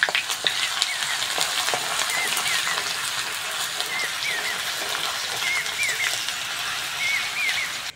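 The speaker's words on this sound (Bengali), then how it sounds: "রসুনটা ভালো করে ভেজে নিয়েছি" Garlic and torn bay leaves sizzle in hot oil in a pan, a steady dense crackling hiss with small popping spatters throughout, close and continuous.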